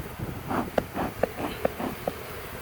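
Honey bees from a swarm buzzing faintly around a hive box outdoors, as soft short buzzing passes with several brief clicks or taps in a steady rhythm, quiet and close.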